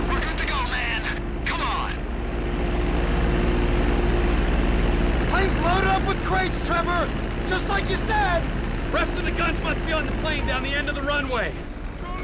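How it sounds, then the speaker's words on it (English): A propeller plane's engine in GTA V drones steadily through the whole stretch as a low, loud hum, with characters talking over it in bursts. "Get in the plane, Trevor."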